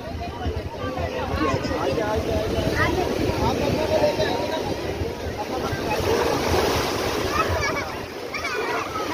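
Sea waves surging high up a beach at Mubarak village near Karachi, a steady broadband wash with wind buffeting the microphone throughout, while people talk nearby over the surf.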